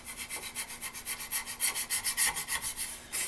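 Hand filing on the metal body of a North Bros Yankee No 990 drill press vise, a steady run of about twenty rasping back-and-forth strokes in quick even rhythm, close and alone.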